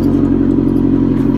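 A Scion tC idles in the morning, its engine holding a loud, close, steady drone with a rough pulsing throb and no voices over it.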